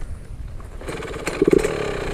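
A Yamaha YZ 65 dirt bike engine idles with a low rattling putter, then revs into a louder buzzing rasp with a few sharp throttle blips near the middle.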